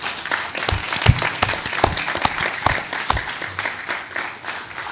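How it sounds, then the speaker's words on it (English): Audience at a court award ceremony applauds an honoree, a steady crowd of hand claps with sharp individual claps standing out, continuous for the full stretch with little talk. "please give him a round of applause"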